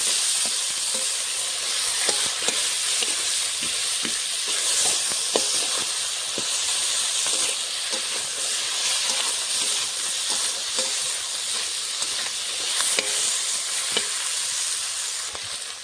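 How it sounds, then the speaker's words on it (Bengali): A fish head fries in hot oil with steady, loud sizzling and crackling, scattered pops throughout and no talking. "এখন মাছের মুড়োটা ভেজে নেবো ভালো করে"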